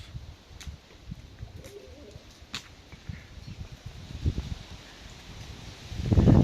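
Pigeons in an old cellar loft on a windy day, soft cooing and wing flutters mixed with rustling and gusts, building into a louder close burst of wingbeats at the very end.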